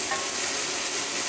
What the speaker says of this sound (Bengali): আমরা সুন্দরভাবে নেড়ে নিচ্ছি নাড়ে দিয়ে।